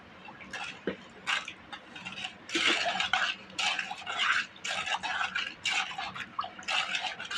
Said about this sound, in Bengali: এরপর নেড়ে চেড়ে দিব।